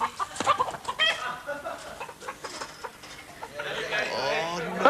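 Chickens cluck and squawk in a backyard pen as they're chased around, their calls scattered and shrill, rising into a louder flurry near the end, with people shouting over them.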